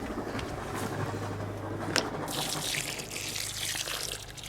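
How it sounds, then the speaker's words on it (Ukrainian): Water poured from a vessel onto freshly fertilized garden soil around newly planted globe thujas, a steady close splashing gush that swells toward the end, heard alone without talk. "Кинули добриво, заливаємо водичкою, перемішаємо все"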